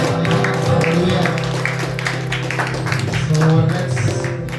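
Church congregation at a Sunday service clapping together, a steady patter of many hands near and loud, running continuously under a sustained musical backdrop with some voices mixed in.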